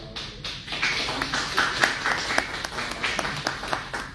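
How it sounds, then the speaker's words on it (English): Graduates clap together at a surgical tech graduation ceremony, a moderate burst of applause with some distinct sharper claps standing out, steady throughout and free of speech. "give yourself a round of applause for that"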